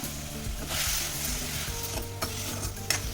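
Chopped tomatoes, about a quarter kilo, hitting a hot pan for a brinjal-tomato chutney, sizzling steadily with stirring scrapes and a few light utensil knocks, no voices.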